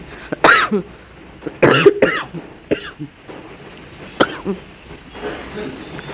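Several loud, close, harsh coughs come in irregular bursts indoors during rain, some doubled, with throat clearing and quieter gaps between.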